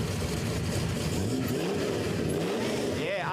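A 454 big block Chevrolet street car wearing an original Queensland green and white plate revs at an airstrip, a loud, rough engine drone rising and falling under a commentator's voice.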